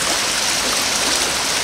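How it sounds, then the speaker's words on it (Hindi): Water rushes steadily through the channel of a traditional water-powered flour mill near Khanpur Dam, Pakistan, a loud continuous close-up roar with no talk. "यहाँ से पानी रुक के इस तरफ को चलना शुरू हो जाता है और वो चक्की की तरफ नहीं जाता, डायरेक्ट नाले की तरफ चला जाएगा।"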